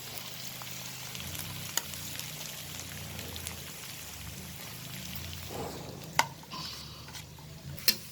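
Finely chopped onions fry in hot oil for vagharel bhel, giving a soft, steady sizzle with a few sharp clinks from stirring near the end.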